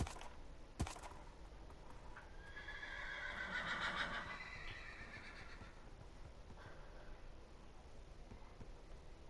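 A horse in the Minecraft video game neighs once, a clear whinny with a brief click just before it, sounding moderately near amid quiet game background.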